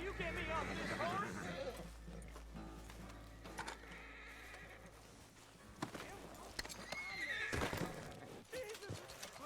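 A horse whinnies near the start while hooves clip-clop, and people talk over the scene in raised voices, in the video game Red Dead Redemption 2.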